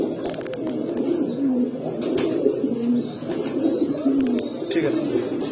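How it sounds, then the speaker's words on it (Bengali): Pigeons kept for sale, pairs of fancy breeds, coo in repeated low throaty phrases close by, with someone speaking intermittently over them. "ওগুলো কবুতর, এগুলো কবুতর"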